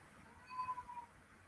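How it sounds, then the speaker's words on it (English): A pet cat meows once or twice indoors, a faint, short call in a quiet room with no talking over it. "Can you hear my cat?"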